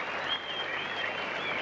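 Large crowd at an Australian World Series cricket match applauding a boundary, steady dense clapping with crowd noise throughout.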